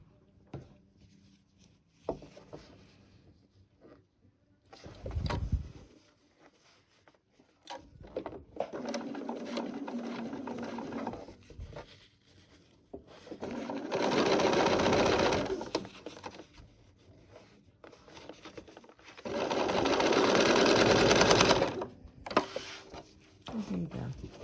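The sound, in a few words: sewing machine stitching quilt pieces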